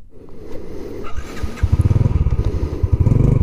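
A semi-automatic motorcycle rides in second gear, its engine note pulsing steadily and close by. The throbbing grows firmer partway through as the bike pulls harder.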